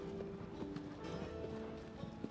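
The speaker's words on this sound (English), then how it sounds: "Why is this horse running like a freak?" A horse gallops in the video game Shadow of the Colossus on PS4, its rhythmic clip-clop hoofbeats repeating at a quick, steady pace at moderate volume.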